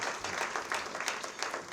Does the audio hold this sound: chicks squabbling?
no